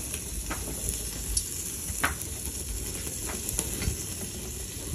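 Asparagus and garlic cooking on a grill give a close, continuous sizzle and crackle, with scattered sharp pops throughout and no talking.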